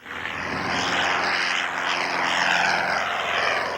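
A propeller airplane drones steadily overhead carrying a message banner across town, a loud continuous engine hum with a slight wavering pitch, alone without talk.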